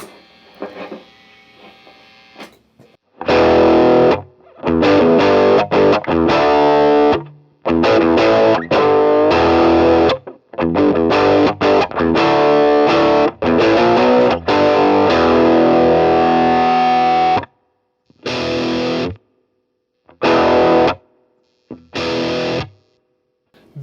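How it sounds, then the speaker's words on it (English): Electric guitar through an Ibanez TS9 Tube Screamer overdrive pedal, loud driven chords in short bursts separated by sharp stops, with a faint hum in the quiet gaps and no talking. "Tube Screamer."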